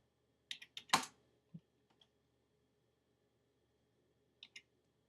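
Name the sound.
typing a command on a computer keyboard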